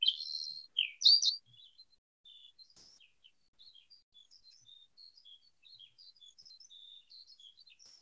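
Skylark song played as a sound effect in a radio play: bright, warbling chirps and trills, loud at first, then a long, fainter run of quick high twitters with no voices.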